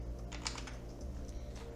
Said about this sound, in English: So let's type in fabric.